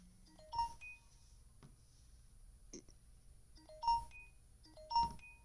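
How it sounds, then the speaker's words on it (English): A phone sounds repeated short electronic notification chimes, about four bursts of bright two-tone beeps with quiet gaps between, close and clear over a faint room hum. "Sorry for my phone blowing up."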